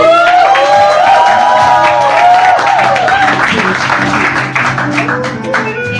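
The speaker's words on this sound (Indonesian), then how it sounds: "Penonton mana tepuk tangannya?" Audience clapping and some cheering at a Christmas celebration in a villa, with music tones sounding over the crowd and voices mixed in.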